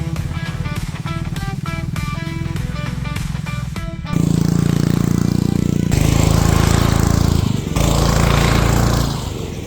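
A lawn mower fitted with an aftermarket Temu exhaust runs loud and close. A steady, pulsing engine drone shifts partway through to a harsher, louder roar that holds steady with brief dips.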